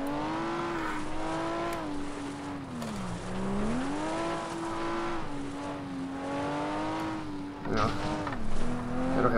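A car in the FlatOut racing game spins out, its engine whining and rising and falling steadily while tires skid, with a louder scrape near the end and a voice talking over it.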